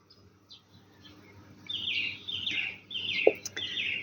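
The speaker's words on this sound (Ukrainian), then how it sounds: "ви чуєте, як гарно співають пташки?" Several birds chirp and trill in short repeated phrases, fairly faint and distant, against a quiet background at sunrise, around six in the morning.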